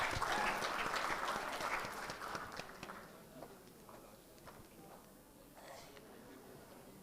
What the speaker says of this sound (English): Clap for her, guys.